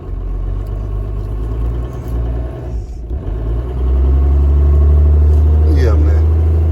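A Toyota HJ61 engine rumbles steadily as the vehicle is shifted into drive and moves off, the low drone growing louder partway through, with a voice talking over it.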